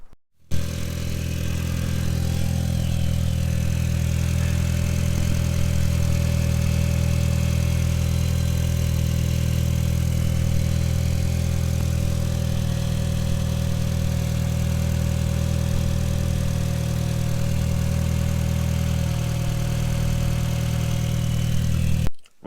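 A VW Golf MK4 GTI engine runs steadily after an auxiliary belt and tensioner replacement, a loud, even low hum with no revving, close by and alone.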